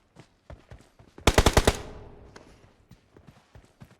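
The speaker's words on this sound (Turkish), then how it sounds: "Bize sıkıyorlar onlar." Gunfire in the PUBG Mobile video game: a loud burst of several rapid automatic shots in the middle, fading into a short echo, with softer thuds and footstep-like taps before and after.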